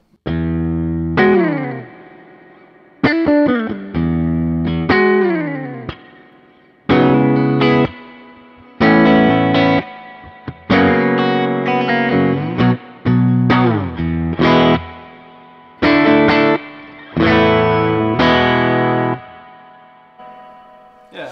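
Clean electric guitar chords and single notes strummed in bursts through a Kemper reverb set to lower mix and longer decay, each ringing out with a long, washy tail that fades slowly between phrases.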